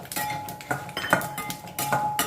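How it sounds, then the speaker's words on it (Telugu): Cashews dropped into a pan of hot oil, with repeated metallic clinks and scrapes from a spoon against the pan, close and clear. "ఈ స్టేజ్లో మనం జీడిపప్పు వేసేద్దాము"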